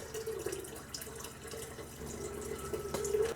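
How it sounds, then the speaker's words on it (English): Hot distilled rinse water poured off a settled silver chloride precipitate, a steady close trickling and splashing of liquid running for a few seconds and swelling slightly at the end, with no talk. "We'll pour this off and give it another rinse."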